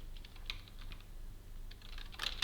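Computer keyboard typing: soft, irregular keystrokes heard quietly and up close, ending in a quicker, louder flurry of keys.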